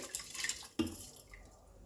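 Rice and soaked moong dal dropped into a pot of warm water, a short splash and clatter with faint drips, close and alone.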